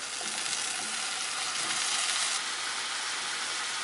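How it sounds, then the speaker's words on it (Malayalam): Broccoli sizzles and fries in a pan as it is stirred into a Kerala-style mezhukkupuratti, a steady close hiss running throughout with no voices. "നമുക്കിനി ഇതിലേക്ക് വൃത്തിയാക്കി വെച്ചിരിക്കുന്ന ബ്രൊക്കോളിയും കൂടി ചേർക്കാം"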